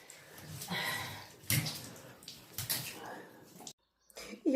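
A dog being bathed in a tub, with water splashing and running in uneven bursts close by while someone talks over it, then a brief silence.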